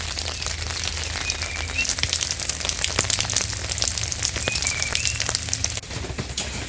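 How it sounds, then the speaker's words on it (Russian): Rain pattering on an RV trailer, a dense steady patter with occasional sharper drips. "Вот сейчас идет на улице дождь, и мы проверяем, где еще наш трейлер течет."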